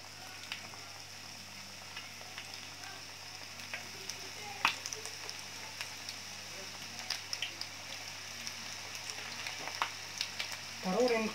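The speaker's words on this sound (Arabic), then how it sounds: "دابا غندوزو للمرحله ديال القلي" KFC-style chicken pieces frying in hot oil, a steady close sizzle with small crackles and pops throughout, with a speaker talking quietly over it.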